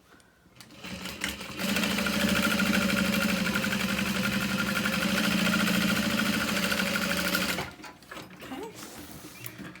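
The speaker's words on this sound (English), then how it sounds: "we're gonna top stitch on the bottom panel vinyl" A sewing machine top-stitches the vinyl bottom panel of a handbag in one long, steady motor run of about six seconds, close and loud, with a brief spoken word at the end.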